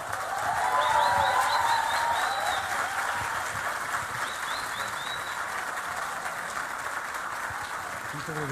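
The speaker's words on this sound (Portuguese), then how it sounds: "se você puder ficar de pé e receber com um forte aplauso Dr. Augusto Cury." A large audience gives a standing ovation for Dr. Augusto Cury, dense sustained clapping that swells loud at first and then holds steady, with faint whistles and cheers on top.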